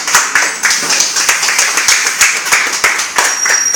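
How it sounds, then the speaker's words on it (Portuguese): A church congregation claps in steady rhythmic unison, sharp hand claps repeating at an even pace close to the listener, with no voices over it. "se assente e aplauda o Senhor nesse lugar"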